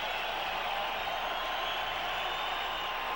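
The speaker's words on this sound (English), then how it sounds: "The crowd trying its best to encourage Mitch Williams." A baseball stadium crowd roars steadily to encourage pitcher Mitch Williams. The broad wash of cheering is unbroken and holds an even level throughout.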